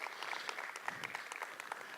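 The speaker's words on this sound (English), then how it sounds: "Let's give her a round of applause." A round of applause from an audience at a November 2018 talks event, fairly faint and distant, with scattered claps forming a light steady patter.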